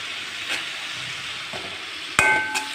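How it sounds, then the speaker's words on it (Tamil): Ginger garlic paste sautéing in a pan for a ridge gourd gravy, a steady soft sizzle with a few faint utensil taps and one sharp clatter near the end, close and without talk. "நல்லா வதங்கட்டும் இஞ்சி பூண்டு பேஸ்ட்டு போட்டுக்கோங்க"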